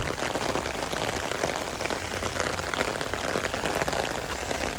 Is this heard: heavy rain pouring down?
yes